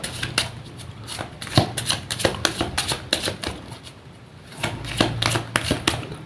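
Tarot cards are shuffled by hand in rapid crisp riffles and taps, a close series of sharp flicking bursts with a brief pause midway before the shuffling resumes.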